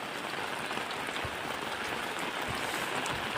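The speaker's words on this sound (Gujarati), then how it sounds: "વરસાદ તો ચાલુ છે જોઈ લો" Steady rain patters evenly on a surface, a constant soft hiss with no voices.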